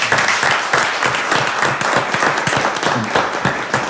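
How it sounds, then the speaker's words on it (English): A round of applause at a school board meeting: a room of people claps together in a dense, continuous patter, moderately loud and steady from start to finish with no talk. "I would just ask if we could please give them a round of applause."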